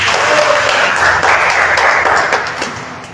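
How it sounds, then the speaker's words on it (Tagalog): A congregation at a religious healing service claps loudly, a dense burst of applause that holds steady and then tapers off. "Ganyan po bang palakpak ninyo kay El Shaddai?"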